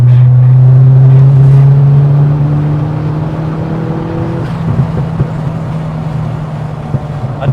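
A rare Ford Fiesta RS Turbo accelerates in fourth gear, its engine note loud and close from inside the car. The droning tone climbs steadily in pitch, then levels off into a sustained roar with some road rumble.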